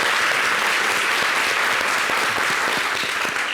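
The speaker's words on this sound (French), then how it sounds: "Je pense que ça s'applaudit" Dense, sustained applause from a live television studio audience, an even wash of clapping at constant loudness from start to finish with no voices over it.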